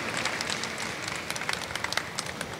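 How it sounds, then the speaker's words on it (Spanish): Audience applause after a presentation at a tech talk on cloud databases, a dense, even wash of many hands clapping at close range. "Un fuerte aplauso"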